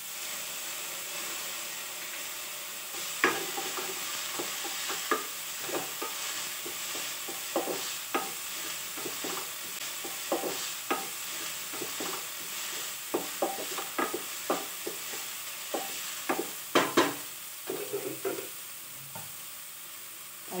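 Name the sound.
onion and green chili frying and stirred in a pan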